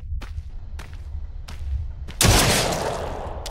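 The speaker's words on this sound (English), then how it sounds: "That's some sharp shooting, baby." Gunfire in a zombie survival video game, a few sharp isolated shots followed by a louder burst of rapid fire with lingering rumble, close and unaccompanied by speech.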